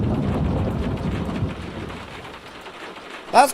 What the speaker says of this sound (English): That's quite a lot of thunder.